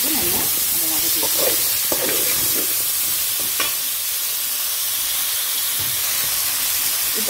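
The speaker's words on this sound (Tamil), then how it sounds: "இப்போ இது மட்டும் நல்லா நம்ம வதக்கலாம்." Onion, tomato and potato sauté in a hot pan for a mushroom curry, giving a continuous sizzle and hiss with a few stirring scrapes and clinks, close and fairly loud.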